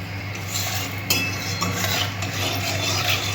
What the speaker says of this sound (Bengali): আমি এবার মাছটা ভাজা শুরু করি